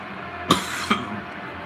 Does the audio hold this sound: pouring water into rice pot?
no